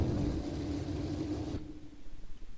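A McLaren MP4/6 Formula One car's engine rumbles low and steady in a racing sim while backing up in reverse, then drops away abruptly, leaving faint uneven idle pulses.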